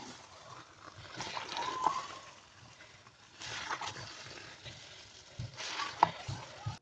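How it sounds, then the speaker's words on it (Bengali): Meat being stirred and fried in kala bhuna spice paste, a soft sizzle broken by three louder bursts of stirring and scraping, fairly quiet and close, with no voices. "এখন আমি মশলাতে মাংসগুলো দিয়ে খুব ভালো করে মিক্স করে নেব"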